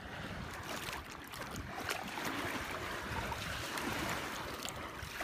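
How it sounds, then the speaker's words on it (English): A toy activity boat, Twirlywoos Big Red Activity Boat, is pushed through water, with steady sloshing and splashing close by that carries on without a break and stays moderately loud. "Let's push the boat out into the water."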